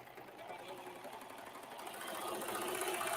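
A sewing machine runs steadily while sewing a chain stitch, a continuous mechanical whir that grows slightly louder toward the end, with people talking over it.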